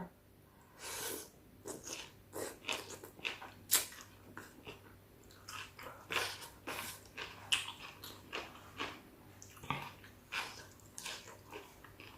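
Crunchy pork rinds bitten and chewed close up, a steady series of crisp crackling crunches in an irregular chewing rhythm, faint and intimate with no talking.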